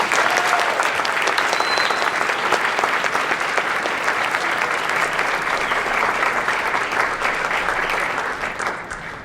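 An audience at a school symposium gives a round of applause for a group of high school students, a dense, even clapping that holds for about nine seconds before beginning to taper off.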